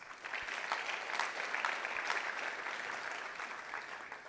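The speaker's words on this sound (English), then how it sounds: "Give yourselves a round of applause." Applause for the attendees at a gathering, a steady wash of many hands clapping at a moderate, somewhat distant level, sustained for the whole stretch without voices over it.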